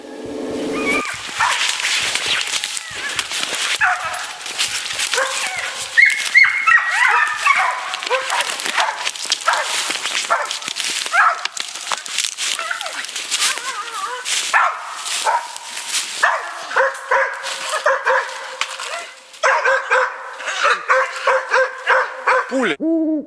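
A hunting dog barks and yips repeatedly in excited bursts during a bear hunt in the taiga, fairly close, while people talk over and around the barking.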